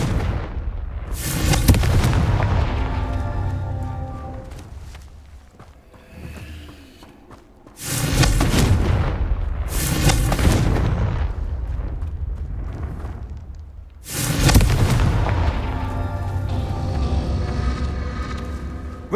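Confringo fire spell blasts in the Hogwarts Legacy video game on PS5, four loud booming explosions spaced several seconds apart, each with a rumbling tail that fades before the next one.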